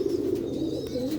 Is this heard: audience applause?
no